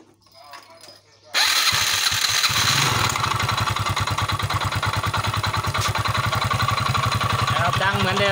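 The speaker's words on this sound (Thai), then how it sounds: "เดี๋ยวเรามาฟังเสียงเครื่องพร้อมๆกันครับ" A Yamaha Fino scooter with a suspected connecting-rod knock in the crankcase fires up after a quiet moment and settles into a close, steady idle with a persistent rhythmic clatter.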